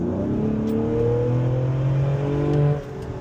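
A 2022 Ford Explorer ST pulls hard under acceleration, its engine note climbing steadily in pitch from inside the cabin, loud and continuous before easing off near the end, with no talking.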